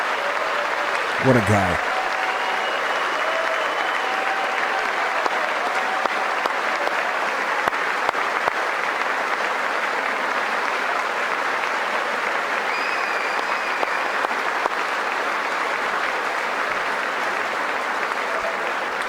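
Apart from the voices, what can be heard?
applause from military members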